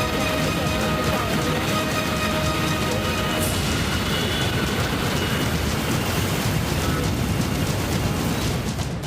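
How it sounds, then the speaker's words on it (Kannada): Heavy evening rain pours in Bengaluru as a dense, loud, steady roar of rainfall that continues unbroken throughout, with no pauses. "ಇನ್ನು ಸಂಜೆ ಸುರಿದ ಮಳೆಗೆ ನಾಯಂಡಹಳ್ಳಿಯಲ್ಲಿನ ರಸ್ತೆ ನದಿಯಂತಾಗಿದೆ."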